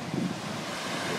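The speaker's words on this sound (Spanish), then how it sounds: "¡Wow! Mar." Waves break on an unspoiled beach along the Camino route from Fisterra to Muxía, a brief, even wash of surf mixed with wind rumble against the microphone.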